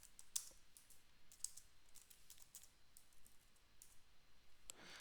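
A computer mouse gives a few faint, sharp clicks spaced a second or more apart against near silence in a quiet room, with no voices.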